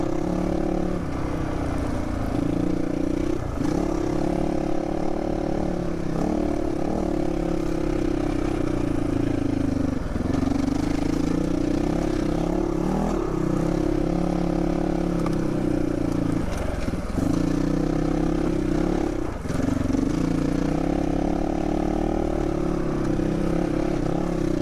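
A 2022 GPX Moto FSE450R motorcycle climbs a steep uphill trail, its engine droning steadily near the microphone with rhythmic rises and dips in pitch as the rider works the throttle, plus occasional chassis clatter.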